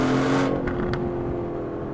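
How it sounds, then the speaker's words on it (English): An Aston Martin Vantage sports car accelerating hard, a loud, close engine roar with a strong steady tone that holds and then eases slightly, no voices present. "I love putting power down on this car."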